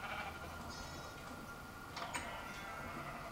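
Sheep bleating in the Minecraft video game, several short bleats over a steady background with a faint ticking.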